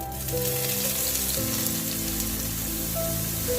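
Soybean chunks fry in hot oil in a pan, giving a dense, continuous sizzle that stays steady and close throughout, with no voices.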